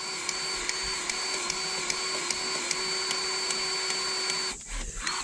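A grease gun pumps grease into fittings on a Kubota KX71 mini excavator, a steady whining tone with regular sharp clicks that cuts off and sputters at the end as the grease runs out.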